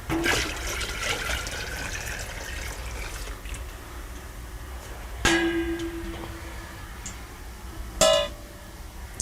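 Sparged wort being poured into the original wort while home brewing a milk stout by the mini-mash method, a steady watery pouring and splashing running throughout, with a few sharper clinks of containers.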